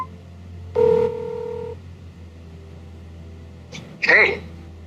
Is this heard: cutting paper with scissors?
no